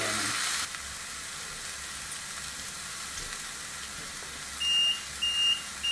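A contact grill cooking gammon steak gives a steady frying sizzle, then its timer sounds several short electronic beeps in a row near the end, fairly quiet over the crackle.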